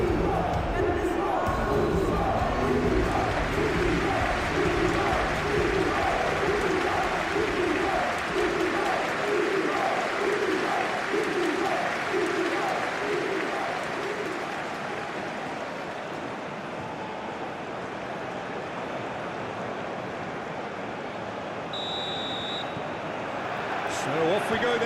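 Stadium crowd in the PES football game at a Champions League match, Sporting Lisbon versus Arsenal, a steady loud roar with rhythmic chanting in the first half, fading slightly later, while commentators talk over it.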